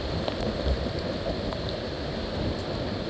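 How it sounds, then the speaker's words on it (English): Steady heavy rain during Hurricane Milton in Ruskin, a dense continuous hiss with gusty wind noise underneath, loud and unbroken for the whole stretch. "it's going to get windier, and the rain direction keeps changing"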